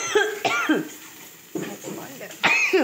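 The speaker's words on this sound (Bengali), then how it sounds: "মা এত কাশি" Harsh coughs come in several close bursts with short gaps between, loud and near, mixed with throat sounds.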